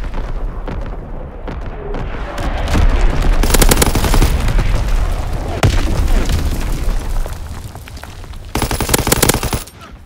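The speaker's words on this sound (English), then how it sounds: "Incoming enemy artillery. Get to cover." Incoming enemy artillery in a Call of Duty WW2 multiplayer match: loud booming explosions and blasts layered with heavy machine gun and rifle fire, a chaotic, continuous barrage close by.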